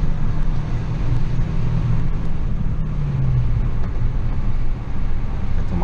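Chevrolet Onix 1.4 eight-valve engine pulling from about 40 km/h, heard from inside the cabin as a steady, loud low drone mixed with road noise, with no talking.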